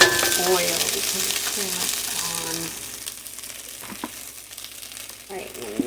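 Garlic frying in oil in a pan for stir-fried rice, a bright sizzle that fades over a few seconds, with stirring clatter and a few sharp utensil knocks against the pan.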